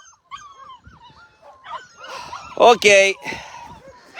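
Young shelter puppies at feeding time whimper and yip in thin, high cries that build into a few loud, close yelps, with a brief spoken word at the start.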